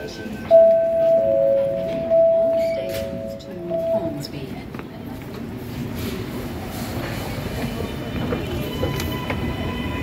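Train doors closing at a station platform in Chatswood, with a two-tone door chime sounding near the start, followed by rumbling train and station noise while people talk nearby.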